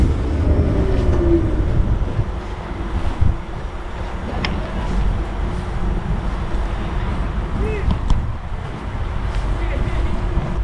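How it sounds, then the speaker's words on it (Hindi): A tram rolls past at a tram station outside Paris on a windy day, a low steady rumble with wind buffeting the microphone and a faint metallic squeal from the rails. "ये ट्राम स्टेशन है, ये ट्राम जा रहा है।"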